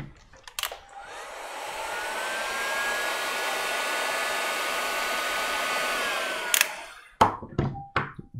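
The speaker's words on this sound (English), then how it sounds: "If I put a heat gun to it," A heat gun blows steadily on temperature color-changing PLA filament, a loud, even, close whoosh lasting several seconds, bracketed by a few clicks and knocks at start and end.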